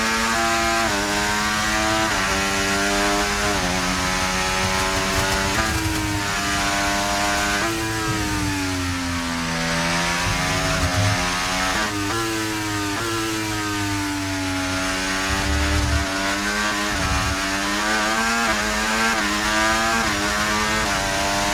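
Formula 1 race car engine in the F1 24 racing game at Miami, screaming continuously at high revs through a final lap, pitch rising and falling with gear changes and corners, loud and close throughout.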